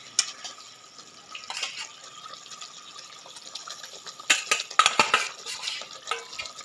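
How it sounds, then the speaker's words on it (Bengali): Fried boal fish pieces are dropped one at a time into a boiling curd-based curry gravy in a pan, making a cluster of close splashes, bubbling and light metal clinks after a quieter simmer. "এবার আমি ভাজা মাছগুলো একটা একটা করে দিয়ে দেবো"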